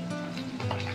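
Prawns fry with onion, salt, chili powder, green chili paste and turmeric for a Bengali prawn and pointed gourd dish, giving a steady, close, dense sizzle that continues without a break.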